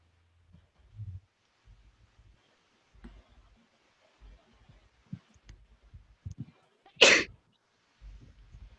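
One sharp, loud sneeze bursts out close by near the end, after a stretch of quiet shuffling and soft movement.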